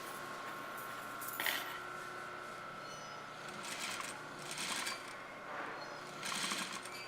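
A sewing machine runs a few stitches and then reverses on a blouse seam. It whirs quietly in short bursts separated by brief pauses, and a voice talks softly underneath.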